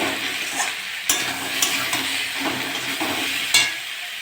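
Mourala fish and taro sautéing with salt in a pan, an ongoing close sizzle of frying punctuated by several sharp clinks and scrapes of a spoon stirring against the pan, with no talking.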